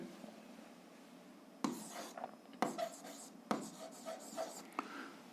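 Pen writing on paper while working an algebra exercise, a series of short scratchy strokes in bursts with brief pauses, close and fairly quiet.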